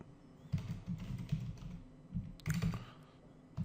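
Fingers type on a computer keyboard, a close, quiet patter of separate key clicks in short bursts with a brief pause in the middle.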